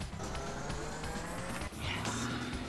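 Game car engine and squealing tires from No More Heroes, a dense, continuous racing roar with skidding screeches and a brief dip midway before the revving noise surges back, steady and loud throughout.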